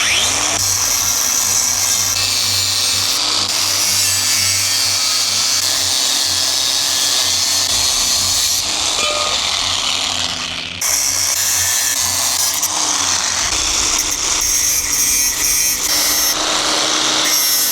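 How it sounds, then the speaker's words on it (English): Power tool cutting timber for a builder's-style roof rack on a camper, a loud continuous whine running nearly unbroken, dipping briefly near the middle before resuming at full strength. "angle grinder."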